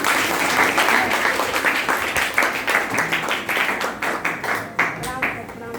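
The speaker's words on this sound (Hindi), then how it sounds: "अनीता मैम के लिए एक बार जोरदार ताली।" A school audience claps loudly for a teacher, a dense burst of many hands with clustered sharp slaps that continues steadily throughout with a voice mixed in.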